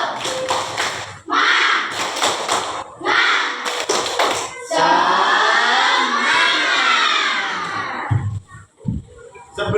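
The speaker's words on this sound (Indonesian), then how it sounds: "Tepuk semangat." A classroom of students performs a rhythmic spirit clap, with bursts of patterned group clapping and thumps followed by a long stretch of loud children's voices chanting and shouting together, ending in a few scattered claps.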